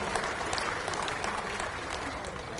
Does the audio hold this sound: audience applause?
yes